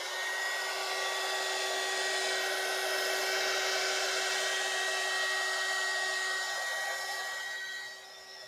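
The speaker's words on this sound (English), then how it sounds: "Let me just hit this with the dryer a little bit" Small handheld paint heat dryer blowing on a piece of artwork, giving a steady, close, high-pitched whirring hiss with a constant motor whine that runs unbroken for several seconds before dropping slightly at the end.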